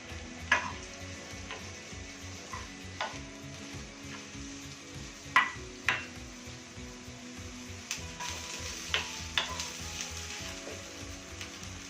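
Broccoli sizzling steadily in a hot pan for broccoli sauce pasta, with a constant frying hiss and occasional clicks and taps of stirring, moderately close and with no voices.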